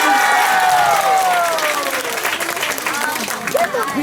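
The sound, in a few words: audience applause at Christmas event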